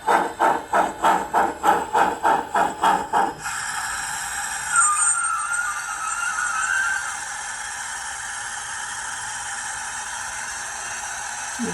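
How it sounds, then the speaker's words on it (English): Rhythmic chuffing puffs of a small model steam locomotive (customized Bachmann Shay), then a sustained steady hiss of steam escaping from the cylinder valves that continues and slowly fades, with no talking. "you'll hear the extra hiss. From those cylinder valves."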